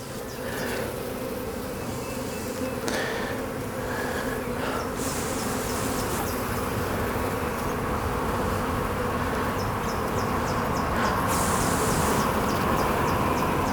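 Honey bees drone steadily and loudly throughout a hive inspection, a dense continuous buzz with no talk, joined by occasional faint clicks and higher rattling notes.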